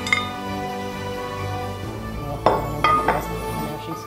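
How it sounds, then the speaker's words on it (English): Cream cheese is mashed in a pan for a hot cherry cheese dip, heard as soft scraping with several sharp clinks and knocks of a utensil against the pan, close and fairly quiet. "the cream cheese, gonna go in, get mashed up in the pan"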